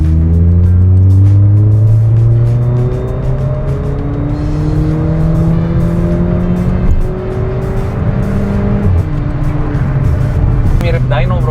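A VW Polo engine with cold air intake and stage 2 tuning accelerates in one gear from about 2000 RPM toward the redline, a loud rising drone with climbing harmonics heard from inside the car, with a shift-like dip partway through.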